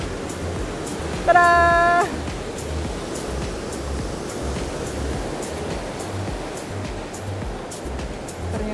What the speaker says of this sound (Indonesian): kalau misalnya ada ombak masuk, itu ada celah di antara batu-batuan itu, nanti akan ada semburan air keluar